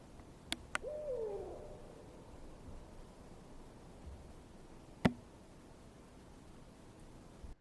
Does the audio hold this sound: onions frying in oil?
no